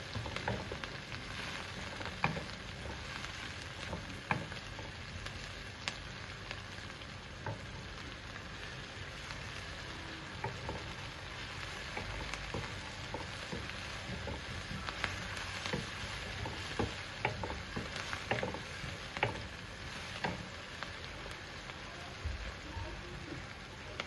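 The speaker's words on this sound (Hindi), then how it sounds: "फिर हम ऑयल में 5 अदद प्याज काट कर डालेंगे। अब हम प्याज़ों को लाइट ब्राउन करेंगे।" Chopped onions sizzling in a cup of hot oil in a karahi, a steady dense crackle and hiss with faint pops throughout, no voices over it.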